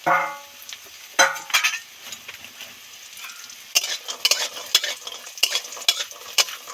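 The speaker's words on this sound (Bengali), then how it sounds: "বড়ি বেশি ডিপ ফ্রাই করে ভাজবো না বড়ি তো ভাজা হয়ে গেছে" Lentil dumplings (bori) fry in oil in a pan with spices, giving a soft steady sizzle broken by sharp scrapes and clinks of a stirring spoon against the pan.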